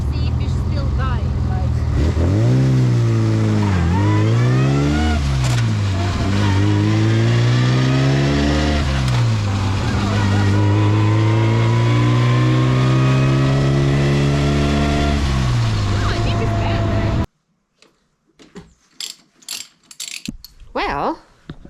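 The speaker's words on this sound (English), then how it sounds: "I want to accelerate a little bit more to see if it's still dying." A vintage Bugatti engine accelerates on a road test, its loud revs rising and falling through several gear changes for about seventeen seconds. It then cuts off abruptly, leaving faint knocks and handling sounds.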